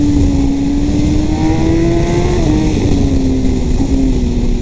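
Kawasaki ZX-10R sport motorcycle engine heard while riding, a steady loud drone with a slightly rising then easing pitch, wrapped in heavy wind rush and no talk.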